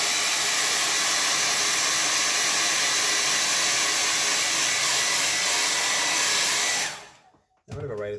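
A hair dryer blows over a watercolor painting on tinted Bockingford paper, a loud steady whooshing hiss close by that cuts out near the end and briefly starts again.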